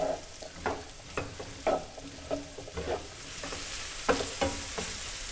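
Finely diced courgettes frying gently in a pan, a soft continuous sizzle broken by repeated stirring scrapes at an uneven pace, close and fairly quiet with no talking.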